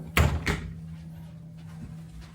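Cabin drawers on the Celebrity Beyond cruise ship being opened and shut, two sharp close knocks in quick succession, then a faint softer bump over a low steady hum.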